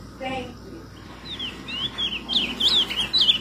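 An azulão (blue grosbeak) perched on a hand sings a run of bright, warbling phrases close by, rising in loudness toward the end, with a brief faint human voice at the start.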